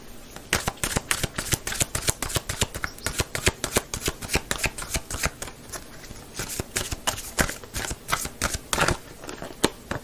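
Tarot cards are cut and shuffled close up in quick, crisp riffles and flutters of card against card. Bursts follow one another steadily with short gaps between them, and no one speaks.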